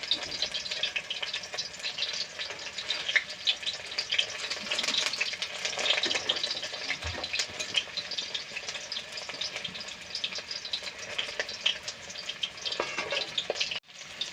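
Whole onions fry in oil with a continuous, moderately quiet sizzle and light crackle, ending in a short clunk; no one speaks.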